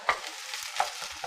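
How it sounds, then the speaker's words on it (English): Onions and green peppers sautéing in hot oil in a pan, a soft continuous sizzle broken by a couple of quick stirring scrapes, close up and fairly quiet, with no voices. "So we're just going to saute these onions for a minute or two"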